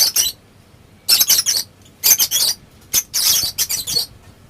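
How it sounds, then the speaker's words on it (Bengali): Pet birds call in a home, with several sharp bursts of high, chattering chirps coming in irregular clusters and short quiet gaps between them. "দেখো আমার পাখিগুলো কি ডাকাডাকি করছে"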